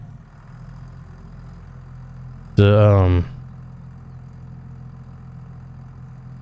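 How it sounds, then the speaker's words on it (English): A tractor engine idles in a steady low drone throughout, with a short burst of speech over it partway through. "I think this tractor has enough power"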